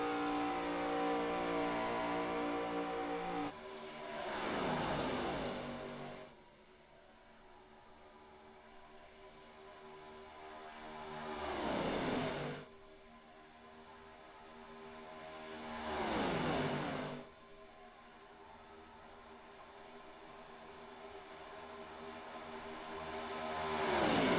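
Three race cars roar past one after another at Talladega, each rising sharply and fading, over a steady background engine drone.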